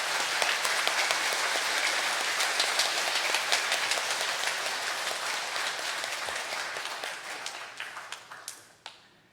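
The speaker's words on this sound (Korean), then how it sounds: "우리 다시 한번 뜨겁게 우리 신부님한테 감사의 박수." A Sunday Mass congregation in a Catholic parish church claps warmly in thanks for the priest, a loud sustained wash of many hands that gradually thins into scattered last claps before stopping.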